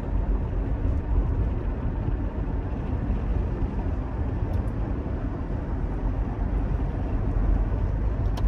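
A Toyota Highlander SUV drives through Chicago city streets, a steady low engine and road rumble filling the cabin continuously at moderate loudness, with faint ticks near the middle.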